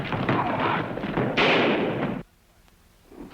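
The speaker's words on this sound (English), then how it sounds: "That sounded like gunfire." Gunfire in an old radio drama: a sharp burst of shots and heavy thuds, loud and close, runs for about two seconds and then cuts off abruptly, leaving near silence with a faint stir at the end.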